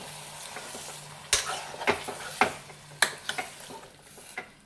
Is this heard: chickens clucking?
no